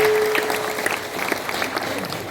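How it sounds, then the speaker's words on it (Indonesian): Applause at an Indonesian community organization's thanksgiving ceremony, with a crowd clapping steadily and fairly close while a master of ceremonies speaks over it. "Tepuk tangan beliau luar biasa."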